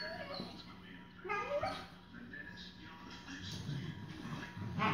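Rhodesian Ridgeback puppies, foster litter, whimper and yip in high, thin, rising cries, several overlapping close by, with a person talking softly to them.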